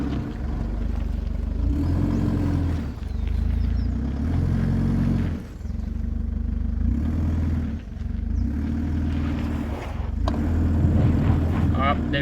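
A low-range, first-gear crawl by an off-road vehicle over an obstacle with traction control only: a low engine rumble with occasional clatter, under someone talking throughout.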